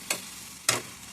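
Cabbage cooking in a pan, stirred on a low flame, with two brief scraping strokes of a utensil over a soft background sizzle.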